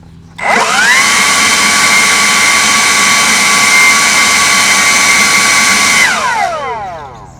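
LawnMaster MX 24V cordless axial leaf blower in turbo mode, starting up with a rising whine, holding a loud, steady high-pitched rushing roar for about five and a half seconds, then spinning down.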